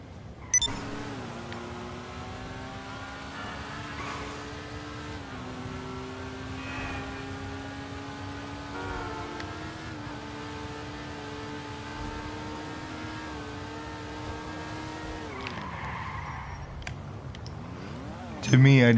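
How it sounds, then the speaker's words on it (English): A steady motorbike engine drone with a low exhaust rumble holds throughout, its pitch shifting in stepped rises and drops, cruising in Grand Theft Auto V. "I just don't like the exhaust sound on this bike."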